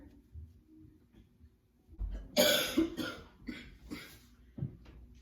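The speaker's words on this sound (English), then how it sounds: "Why are you coughing this much, man?" A burst of several harsh coughs, close and fairly loud, comes in quick succession after a quiet stretch, followed by a couple more fainter coughs.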